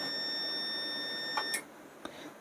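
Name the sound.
APC UPS beeping as its power button is long-pressed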